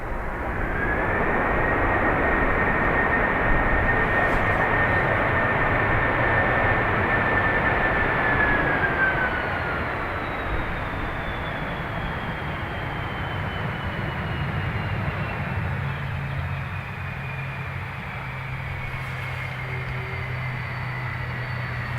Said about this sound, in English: The 777 is normally an absolute floof machine in these conditions